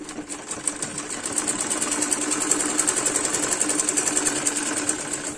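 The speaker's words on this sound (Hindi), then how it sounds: "तो ये यहाँ तक हमें इस कट तक ही सिलना है।" Sewing machine stitching a garment up to a cut, a rapid steady mechanical whir and tick running close and continuous after a brief start.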